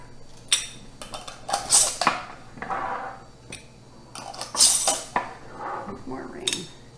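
Glass jelly jars and metal canning rings clink and clatter in quick bursts as they are handled for pickled green tomatoes, close and bright, with brief talk mixed in.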